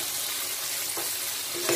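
A chili hotdog sauce with pork and hot ketchup is stirred in a pan, giving a steady close sizzle with a couple of soft utensil scrapes near the end.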